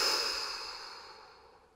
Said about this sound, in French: Et vous soufflez fort par la bouche en relâchant les bras,